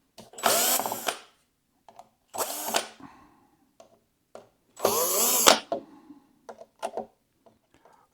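A power drill backs out screws from a Rotai elliptical machine, three loud whirring bursts of about half a second to a second each, close to the mic, separated by quiet pauses and small clicks from handling.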